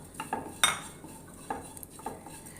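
A metal spoon clinks and scrapes against a pan as shallots, garlic, fennel seeds, curry leaves and ginger are stirred and roasted, with a few sharp knocks and scattered softer scrapes and only faint sizzling.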